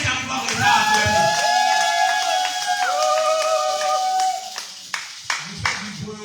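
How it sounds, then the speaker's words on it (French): Church congregation acclaiming and cheering together, a sustained crowd roar with voices and sung or shouted tones, breaking into scattered claps and a few sharp hand hits near the end. "Vous qui êtes arrivés en retard, acclamez."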